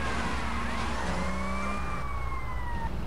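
A police siren wails in pursuit during a car chase in GTA Vice City on Android. Its rising and falling tones sweep continuously over a loud, steady rumble of engine and traffic.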